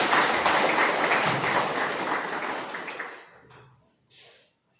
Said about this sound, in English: Please clap for Principal. Huge round of applause.